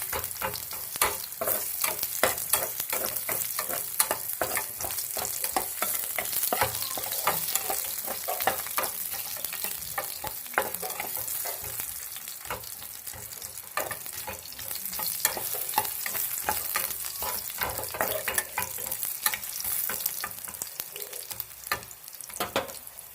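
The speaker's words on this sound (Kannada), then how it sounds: "ಇದು ಶುಂಠಿನ ಫ್ರೈ ಮಾಡೋಣ ಸ್ವಲ್ಪ ಫ್ರೈ ಮಾಡೋಣ ಇದನ್ನು" Ginger frying in a little oil in a pan for chicken curry, a steady sizzle with repeated scraping and stirring strokes throughout, close and continuous with no talking.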